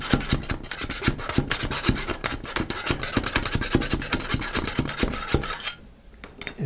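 A wood dowel pushes and taps nose weight down into a model rocket nose cone, making close, repeated rubbing, scraping and knocking strokes in quick rhythm that stop near the end.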